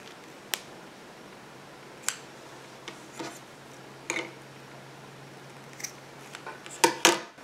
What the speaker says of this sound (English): Then I just took my scissors and cut the ends.